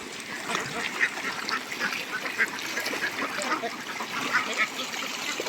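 A flock of farmed native ducks quacks repeatedly outdoors in a rural wetland, several calls overlapping at moderate distance against a steady open-air background.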